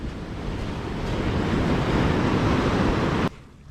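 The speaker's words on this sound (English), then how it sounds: "Like the ocean's pretty fired up this morning." Rough morning surf breaks on a Baja beach, a steady close roar of waves mixed with wind buffeting the microphone, cutting off abruptly just before the end.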